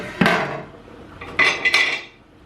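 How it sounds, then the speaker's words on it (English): A pan of boiling spaghetti is shaken and stirred, giving a sharp metallic clank followed by a few quicker rattling knocks of metal against the pan, close and moderately loud. "so I have to shake it to stir it to make sure it doesn't stick to the bottom of the pan"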